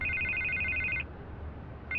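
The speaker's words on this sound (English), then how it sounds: "I can't get the phone to stop ringing." A telephone bell rings in two bursts of electronic trilling, one long ring followed by a pause and the start of another, heard over low background rumble in a city office scene.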